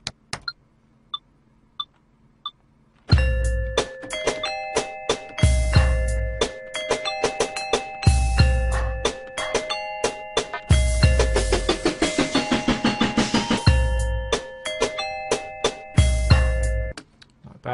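Bright bell tones in a computer-made beat repeat in a looping melodic pattern over punchy kick drums and steady percussion, starting after a few faint ticks and playing loud and clear without any voices.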